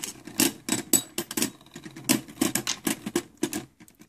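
Two Hasbro Beyblade Burst tops, Doomscizor D2 and Evipero E2, clash in a plastic stadium: rapid sharp clacks and rattling hits in irregular bursts, close and crisp, with no voices.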